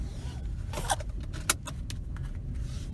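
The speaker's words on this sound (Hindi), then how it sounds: "let me put on the seat belt" Quiet rustles and metallic clicks and jangles come from a seat belt being fastened inside a Hyundai Venue S 1.2 petrol car, with a low, steady cabin rumble underneath and two sharper clicks.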